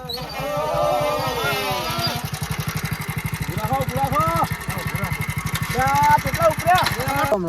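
A motorcycle engine runs steadily near a farm field, a low rhythmic putter continuing throughout while people talk loudly over it.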